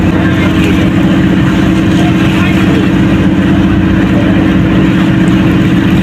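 A cargo trawler on the Padma river gives off a loud, steady low engine drone heard from close by. Constant wind or water noise runs beneath it the whole time.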